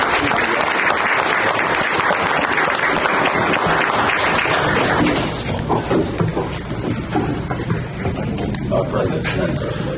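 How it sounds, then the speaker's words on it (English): A room at a county board of education meeting breaks into sustained applause that stays dense for about five seconds and then thins to scattered claps, with voices murmuring underneath. "Okay, let's give them all a good round of applause."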